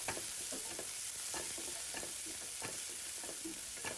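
Repeated scraping strokes of a spoon stirring dill greens with masoor dal in a pan, with soft sizzling underneath, steady and close.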